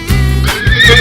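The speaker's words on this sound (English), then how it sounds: "Zebra." A cartoon zebra call, a loud close whinnying bray that rises and wavers for about a second, heard alone without talk.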